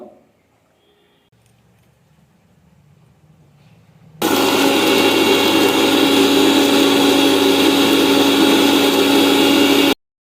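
After a few quiet seconds, a mixer grinder starts abruptly and whirs loudly and steadily for about six seconds, grinding ginger, garlic and green chillies into paste, before cutting off.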